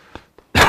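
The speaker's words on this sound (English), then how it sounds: "I apologize for the cough" A single sharp cough bursts out close and loud after two faint earlier breaths or throat sounds, ending the clip with a thick, rough blast.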